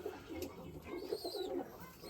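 A pigeon coos softly in a few short, throaty phrases, close by and quiet, with no other sounds around it.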